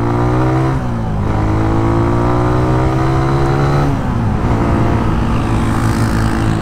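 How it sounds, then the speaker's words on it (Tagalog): A Suzuki Raider 150 motorcycle engine runs loud and close with strong harmonic tones, its revs sliding down and back up twice as the throttle changes, steady with no voices. "pag nakaganyan ka guys, ramdam mo yung umiikot pa yung makina"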